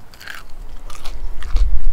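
A close, loud crunchy bite into a crispy fried chicken sandwich from Jack in the Box, followed by a couple of crackling chews.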